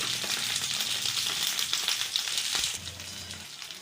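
Eggplant pieces for a garlic-chili eggplant fry sizzle and crackle steadily in a pan after being turned, a dense close frying hiss that eases slightly near the end.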